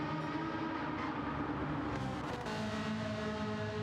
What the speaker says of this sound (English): Got a McLaren coming over the line there to finish their race as well